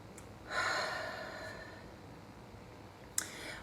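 A single deep inhale through the nose, close and breathy, lasting about a second before fading, followed by quiet and a sharp small click near the end.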